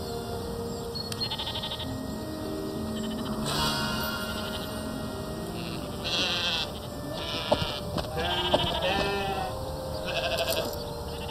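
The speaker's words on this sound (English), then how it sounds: "This has to be the work of my three black sheep." Sheep bleat in the video game Off the Record: The Art of Deception, several bleats rising over a steady game soundtrack and ambience across the stretch, with no talking.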